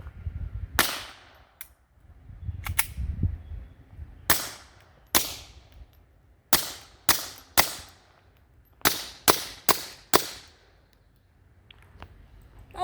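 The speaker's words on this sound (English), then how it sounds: "It makes a cool sound when I shoot." About a dozen gunshots fired at Guard Dog armor plates ring out one at a time at irregular intervals, each a sharp crack with a brief ringing tail, moderately distant, with faint low rumbles between shots.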